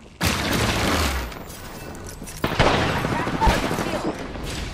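Loud game grenade blasts during a sci-fi shooter firefight: a sharp boom erupts, a rumbling roar lingers, then a second heavy blast cuts in with scattered gunfire and mechanical clatter continuing around it.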